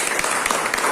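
Applause from a class of students following a teacher's practice lesson on car body filler work, a steady dense patter of clapping filling the whole second.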